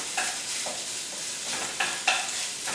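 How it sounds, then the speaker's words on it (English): One pound of chorizo sausage browns in a hot pan, a steady close sizzle with a few brief scraping stirs breaking through, no voices. "Got 1 pound of chorizo sausage. Put it in the pan. I want to get it nice and brown."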